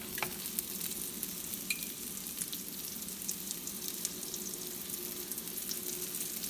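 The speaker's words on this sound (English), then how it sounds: "Listen to it sizzle." Steady sizzling of a black bean and lentil burger frying in coconut oil in a pan, a continuous crackling hiss with no talk, even in loudness throughout.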